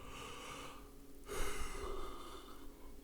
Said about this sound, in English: Oh, sorry for yawning.